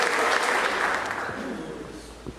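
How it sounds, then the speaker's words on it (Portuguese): A church congregation gives the Lord a strong round of applause, a dense, loud burst of many hands clapping together that slowly fades toward the end. "Dê uma forte salva de palmas para o Senhor"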